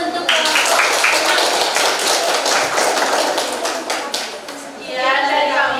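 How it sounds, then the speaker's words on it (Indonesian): Classroom audience clapping in a lesson setting, a loud burst of many hands with rapid, uneven claps close by that thins out near the end before a voice resumes speaking. "boleh beri tepuk tangan dulu untuk"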